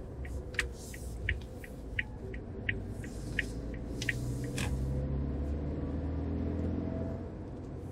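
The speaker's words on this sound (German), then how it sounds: "Wir fahren jetzt auf die Autobahn. Wie immer beschleunige ich mal durch." A 2019 Suzuki Jimny accelerating onto the Autobahn, heard from inside as a steady low engine rumble and road drone that swells slightly partway through, with faint ticking clicks early on.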